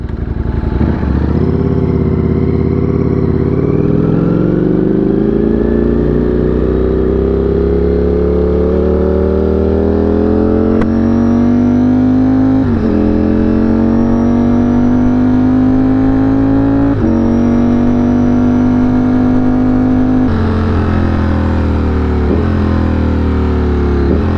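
A small two-stroke motorcycle engine revs and pulls steadily while riding, its pitch climbing through the gears with brief drops at each shift, loud and close with no talk over it.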